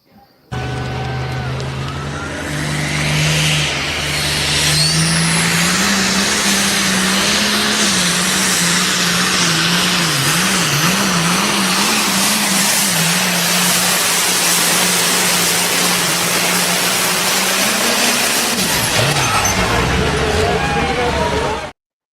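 A pulling tractor makes a tractor-pull run, its engine roaring loud and sustained for about twenty seconds with the pitch wavering as it strains down the track, then cutting off abruptly.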